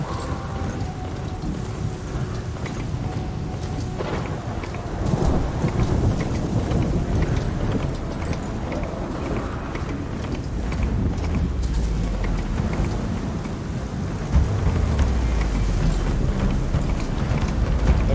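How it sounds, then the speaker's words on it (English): A heavy thunderstorm in the video game Horizon Forbidden West, steady rain hissing throughout with deep rolling thunder rumbles building and swelling, loud and enveloping. "Like a bad storm."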